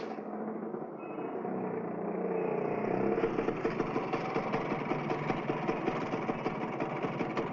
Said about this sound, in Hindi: मोटरसाइकिल बिगड़ गई है।